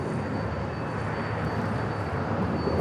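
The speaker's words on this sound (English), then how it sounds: "the JetBlue flight heading to Boston, now rolling" A JetBlue jet bound for Boston rolls down the runway for takeoff at LAX, a steady broadband engine roar at moderate distance holding constant throughout with no voices.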